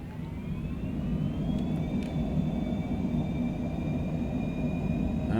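A Citation jet in Microsoft Flight Simulator 2020 throttling up, giving a steady engine roar with a thin whine that rises in pitch and then holds, continuous and moderately loud with no talking.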